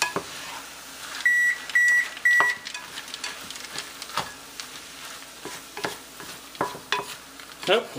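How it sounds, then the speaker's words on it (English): Three short electronic beeps from an oven sound in quick succession near the start, over kitchen clatter and stirring noises while frozen peas and sesame chicken are cooked. "Oh, you can hear our oven beeping."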